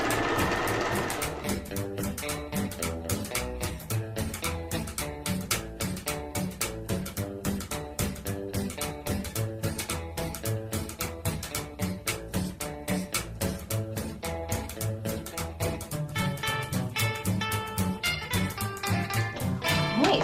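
A sewing machine runs steadily, stitching around the neckline of a small doll bodysuit, its fast needle beat holding a dense, even rhythm close by with no voices over it.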